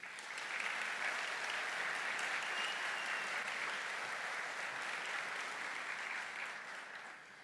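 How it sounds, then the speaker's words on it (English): A large audience at a university graduation ceremony gives a warm, steady round of applause, a dense continuous wash of clapping at moderate distance that holds evenly and then fades slightly at the end. "Please help me in giving them a warm round of applause."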